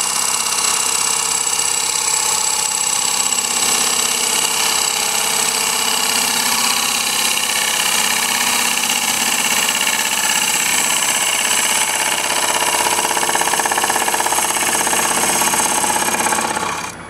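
A woodturning gouge hollows the inside of a short stack wooden bowl on a running lathe, giving a steady, loud, unbroken grinding whir that carries on for the whole stretch and cuts off abruptly at the end.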